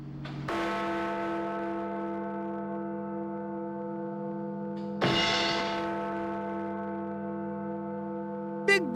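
Big Ben, the 13.5-ton hour bell in the London clock tower, strikes twice with deep sustained resonant tones that ring on and slowly decay, with a faint third strike starting at the end.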